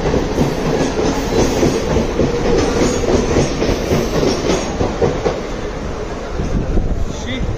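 A Mumbai local train pulling out of the station, a loud, continuous rumble with rhythmic wheel clatter and occasional squeal, close and steady throughout, with people talking over it.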